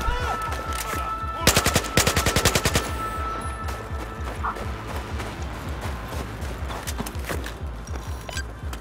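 Rapid bursts of automatic gunfire crackle for a couple of seconds in Battlefield 4, followed by steady thudding footsteps and scattered game sounds.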